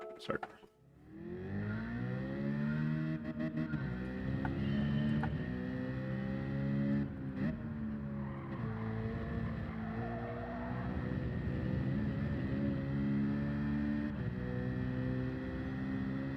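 Naturally aspirated race car engine in Gran Turismo 7, a steady harmonic drone that climbs and drops in pitch through gear changes, loud and continuous after a sharp start.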